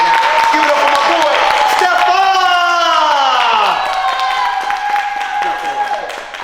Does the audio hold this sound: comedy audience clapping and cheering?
yes